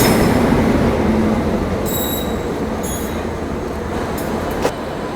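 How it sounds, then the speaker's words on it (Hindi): WAP-7 electric locomotive rolling in to couple onto a passenger train at an Indian station, a steady loud rail rumble with brief metallic squeals and clanks. "ये आ चुका अपना WAP7 लोकोमोटिव और यही भाई आज अब अटैच होने वाला अपनी ट्रेन में।"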